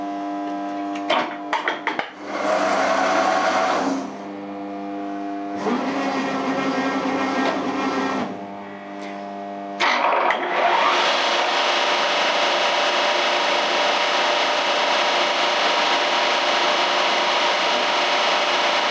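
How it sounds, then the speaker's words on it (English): CNC cutter running a program with its prepositioning height set to 5mm, giving steady tonal motor whine that starts, pauses and changes pitch, then a louder continuous broadband cutting roar, close and alone. "Now I'm going to run the same program again, but I've changed the prepositioning height to 5mm."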